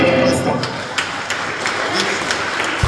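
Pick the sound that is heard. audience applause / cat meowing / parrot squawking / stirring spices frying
audience applause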